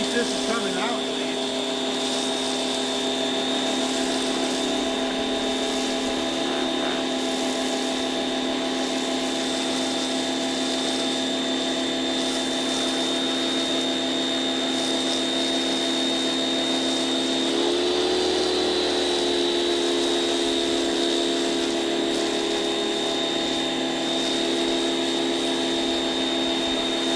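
An Active VE52 electric pressure washer runs continuously with a steady motor whine and hum, and its pitch shifts briefly partway through. The sound is close and fairly loud, and people talk over it at times.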